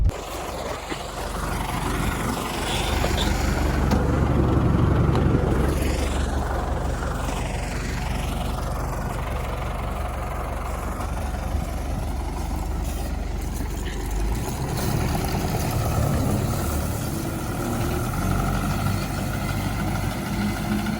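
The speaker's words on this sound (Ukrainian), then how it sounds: "Ну і трактор МТЗ 826." The heavy diesel engine of an MTZ 826 tractor towing a 400-litre sprayer runs steadily nearby, a low rumbling drone that holds for the whole stretch with slight swells in intensity.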